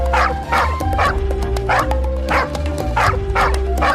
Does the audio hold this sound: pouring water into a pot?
no